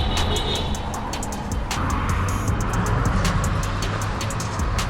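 A fast car rushes past a rider on an HD Big Ripper bike heading downhill, its brief swell buried in constant loud wind roar from the moving camera.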